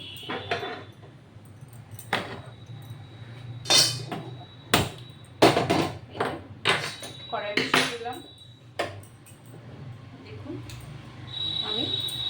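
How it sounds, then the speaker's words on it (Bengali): A kadai wok set down on a home stove while Bengali kalmi shak and potato cooking begins, sharp metallic clanks and knocks scattered through the clip, close, with someone talking between them. "দেখুন আমি কড়াই বসিয়ে দিচ্ছি"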